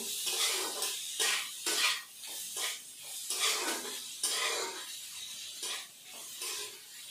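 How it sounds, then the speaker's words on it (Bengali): Ginger garlic paste with chili powder and salt being stirred and fried for chicken chop, with repeated scraping and clinking of a utensil against a pan over a soft sizzle, close and steady. "আদা রসুন বাটা, পরিমাণ মতো নুন দিয়ে আমি ভালো করে নাড়াচাড়া করে ভেজে নেব"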